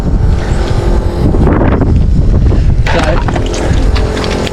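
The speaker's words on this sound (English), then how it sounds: "the ARB thing tends to get a bit hot, pumping 4 tyres up" An ARB air compressor, running hot on the final stages of the Gibb, pumps up four large 4WD tyres, giving a loud, steady mechanical drone with rushing air that fills the whole stretch without a break.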